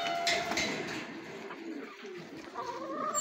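Racing pigeons coo softly in a low, continuous murmur against quiet background noise, with no talking.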